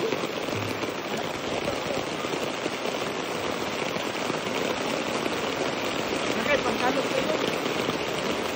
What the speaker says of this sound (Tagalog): ang kapalaran diri sa kusog nga ulan